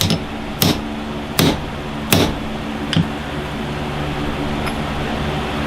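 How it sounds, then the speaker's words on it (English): Five sharp, close metallic taps ring out at roughly even intervals as a tool presses a band onto a duck call barrel in a workshop, over a constant low mechanical hum. "Here's the tool we use to press this band down on here."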